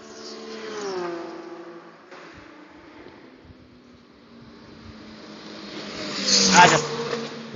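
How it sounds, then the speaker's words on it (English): A BMW race car on a time attack lap sweeps by with a rising and falling engine whine, a first pass early on, then a louder approach peaking near the end, with a voice talking over it. "Here's the BMW come from Italy."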